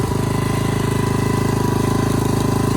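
Kubota T42 walk-behind tractor tilling soil in first gear, its single engine close and loud, chugging with a fast, even, steady pulse throughout.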